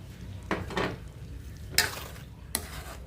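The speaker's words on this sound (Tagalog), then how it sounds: "Haluin natin ng maigi." Spaghetti sauce with dried oregano is stirred in a pan, with a few distinct utensil scrapes and clinks against the metal over a soft, low sizzle.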